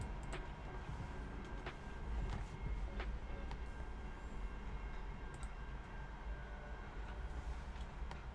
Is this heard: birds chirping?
no